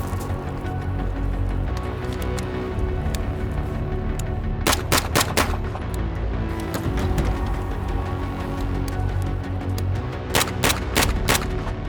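Sharp bursts of gunfire from Sig MPX and MP5 submachine guns ring out at an outdoor range, with a quick cluster of shots near the middle and another rapid string near the end over steady background noise.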